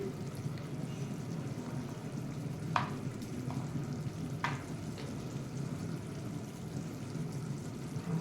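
Prawns fry in a pan over high to medium flame with a quiet, steady sizzle. A couple of sharp utensil clicks stand out over a low background hum.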